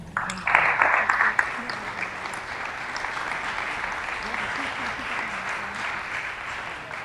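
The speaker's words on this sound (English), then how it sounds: "Let's give her a round of applause." An audience at a mentoring celebration gives a round of applause, a brief louder burst of cheering-tinged clapping up front settling into steady, moderate clapping with faint voices underneath.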